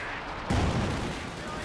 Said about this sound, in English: Machine gun coming forwards.